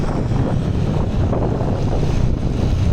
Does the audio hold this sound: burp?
no